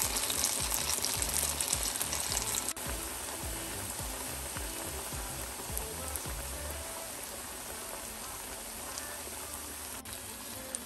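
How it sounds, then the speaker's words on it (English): Saba bananas fry and brown in a pan with a dense, continuous sizzle, crackling and spattering close by with a few louder pops in the steady hiss. "I'm going to brown them all, cook them first until they get brown."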